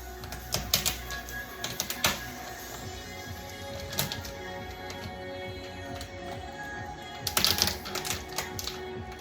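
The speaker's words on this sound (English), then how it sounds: "with a sharp knife, we're gonna cut these tails in half" A sharp knife cuts small lobster tails in half down the middle, giving scattered crisp taps and crunches against a board, with a louder cluster of cuts near the end.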